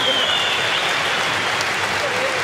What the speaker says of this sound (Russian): Мы слышим, аплодирует ему зал.